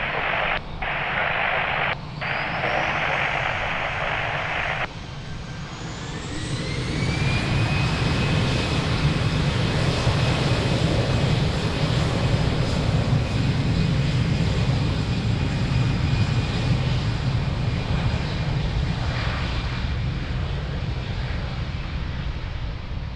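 A jet airliner spools up and takes off from runway 02 at Lisbon Airport, a rising whine building into a loud, steady roar that carries on, following a short burst of crackling radio chatter.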